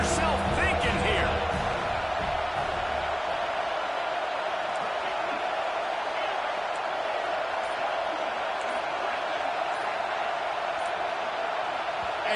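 Stadium crowd roaring on third and goal in a Madden football video game, a loud, steady wall of crowd noise that holds unbroken for the whole stretch, with a brief burst of commentary-like sound near the start.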